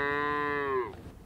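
Cattle on a drought-hit ranch in Hudspeth County: a single long, loud, close moo holding a steady pitch before dropping away at the end, with faint outdoor background.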